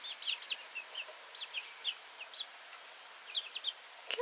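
A hen clucks softly and repeatedly to her chicks, with faint high peeps scattered around her low calls in a quiet setting.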